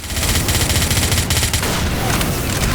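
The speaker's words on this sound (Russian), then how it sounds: "Можно, наверное, бочки взрывать" Rapid, dense bursts of gunfire and exploding barrels in the video game Dead Flag Blues 2, loud and continuous, rattling in a fast rhythm throughout.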